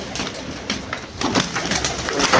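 Pigeons coo close by, a male courting a female, soft throaty rolling calls repeating over a busy, rustling background.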